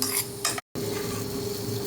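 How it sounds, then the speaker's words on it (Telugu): A spoon stirs a sizzling tempering of mustard seeds, urad dal, cumin, asafoetida, garlic and dried red chillies in a pan for Andhra-style drumstick leaf dal, giving close, continuous scraping and frying sounds with a brief silent gap. "ఇక్కడ ఆవాలు, మినప్పప్పు, జీలకర్ర, ఇంగువ, వెల్లుల్లి వేసి ఎండుమిర్చితో పోపు వేసుకున్నాను"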